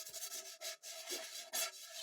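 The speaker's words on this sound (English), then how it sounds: "First of all, let me grab this sander." A handheld power sander scratches the bottom of a painted tin in short, uneven passes, giving a close, raspy rubbing with brief pauses between strokes.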